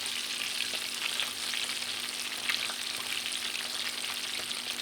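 Escalopes stuffed with mozzarella fry in a pan with a steady, even sizzle, broken by a few faint crackles and stirring clicks, with no talking.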